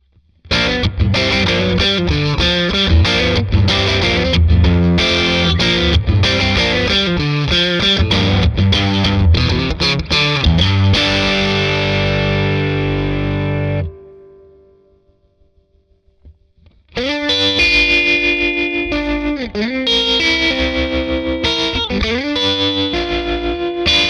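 Distorted electric guitar riffs blast loudly from an amp, then ring out and fade into near silence before another heavy passage kicks in.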